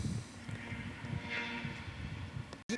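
A train passing outdoors, heard as a steady, fairly faint rumbling roar with a soft tonal hum, continuous and without talk until it cuts off abruptly near the end.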